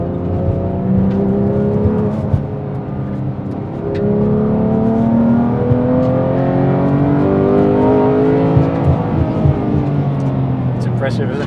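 A Porsche 911 GT3 Touring revs with its exhaust open and pulls hard through the gears on a smooth road, a continuous rising and falling drone with a voice talking over it.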